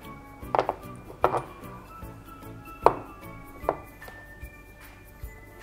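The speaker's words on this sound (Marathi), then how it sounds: "हे जे ओतलेलं मिश्रण आहे ह्याला असं टॅप करून घेऊ म्हणजे ते एकसारखं सगळीकडे लागेल" Tapping a cake tin of freshly poured wheat cake batter against a surface to level it: several sharp, close knocks spaced irregularly, the first two quicker together, then isolated taps, fairly soft overall.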